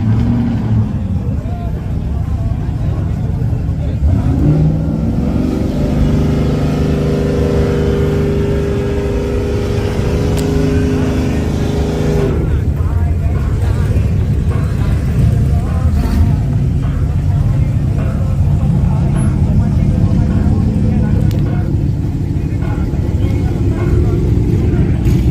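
Chevrolet Camaro ZL1 roaring down a drag strip, a loud sustained engine drone with rising revs, heard amid a noisy crowd with people shouting and talking throughout.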